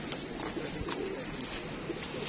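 Teddy pigeons offered for sale by a breeder, giving soft, low cooing calls close by over a steady murmur of background noise, with no clear speech.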